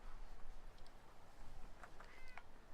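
A cat meows in the video game Fallout 4 Far Harbor, a few short, faint mews near the end over a quiet, hissy ambient background.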